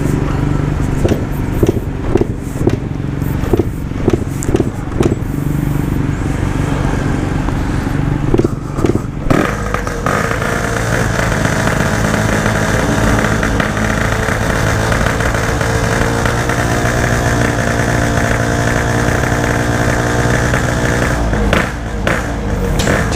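A motorcycle with a PWL carburetor revs hard and loud up close, first in choppy bursts, then held in a sustained roaring drone before easing off near the end.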